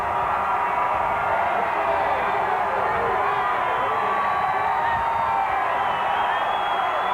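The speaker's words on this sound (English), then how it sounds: "Listen to that crowd." A huge New Year's Eve crowd in Times Square waits for the 1993 ball drop, roaring in a constant, dense wash of cheers and whoops.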